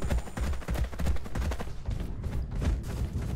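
Gunfire in the video game Valorant during a tournament match, rapid repeated shots and bursts throughout, with short pauses and a commentator's voice faintly underneath.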